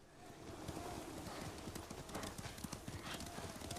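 Horse hooves clop in a steady trotting rhythm in Ghost of Tsushima, close and moderately loud, with a faint snort and low speech in the background.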